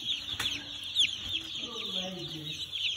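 Day-old broiler chicks on a Ghana poultry farm peep in a dense, continuous chorus of high, rapid chirps, close by, with faint low thuds and rustling beneath.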